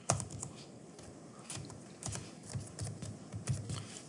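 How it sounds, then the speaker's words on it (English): Quiet, close typing on a computer keyboard, an uneven run of soft key taps with brief pauses and a few slightly harder strokes, in an otherwise still room. "let's go up to your text editor, and let's type in green"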